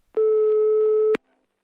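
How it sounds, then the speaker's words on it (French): A mobile phone rings in a hospital room during the COVID-19 pandemic, giving one steady electronic tone about a second long that ends in a sharp click, with silence on either side. "leur téléphone portable reste dans leur chambre. Et ils sonnent. Et ils sonnent."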